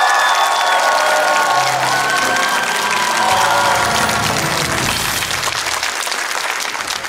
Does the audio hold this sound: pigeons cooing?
no